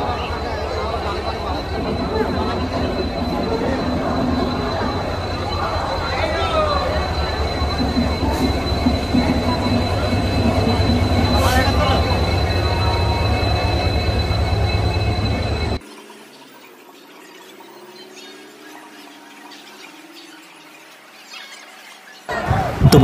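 Train noise and a crowded platform at Howrah station, with the train bound for Puri: dense rumbling clatter and a steady din with voices mixed in for about sixteen seconds, then a sudden drop to a much quieter background.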